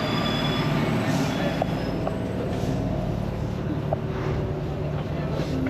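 A Paris metro train runs with a steady, loud rumble, faint wheel squeaks and brief clanks. A voice speaks under the noise now and then.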